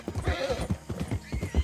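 Horse hooves clip-clop in a quick, uneven rhythm within the RedM (WildRP) game, close and clear, with a short whinny mixed in.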